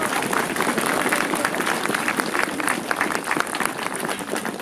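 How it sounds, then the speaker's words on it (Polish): Audience applause at a folk event in the Rydlówka manor, loud and sustained dense clapping from a crowd, close and continuous, with no talk over it. "Wielkie brawa dla nich."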